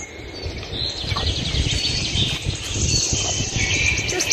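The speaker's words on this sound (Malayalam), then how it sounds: "നിങ്ങൾക്ക് കിളികളുടെ ഒച്ച കേൾക്കാൻ കിട്ടും." Birds chirp with repeated high tweets in an outdoor spot near Al Khor, Qatar, over a steady bed of ambient noise, fairly close and continuous with no talking.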